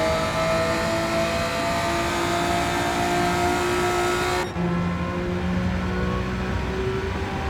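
A Honda VTEC race car in Gran Turismo 7 during a GT2 endurance race, engine held at high revs with a steady loud whine that shifts pitch midway, close and continuous with no talk.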